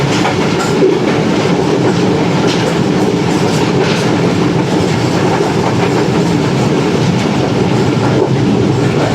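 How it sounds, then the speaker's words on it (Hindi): The Pak Business Express train running on rails from Rohri toward Karachi near Hyderabad, a loud continuous rumble with rhythmic clickety-clack of wheels heard from inside the carriage, no voices. "ट्रेन हमारी हैदराबाद में इंटर होने वाली है"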